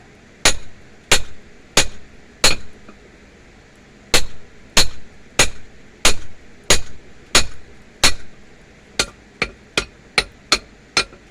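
Blacksmith's hammer striking hot metal and a chisel on an anvil, a steady run of sharp, ringing metallic blows, close and loud, with a short pause midway and a faster, lighter burst of strikes at the end.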